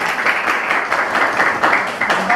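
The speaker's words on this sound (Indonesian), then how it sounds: "tepuk tangan dong" Classroom applause in an art lesson on poster design, a loud, close burst of many hands clapping continuously for a couple of seconds, with no talk over it.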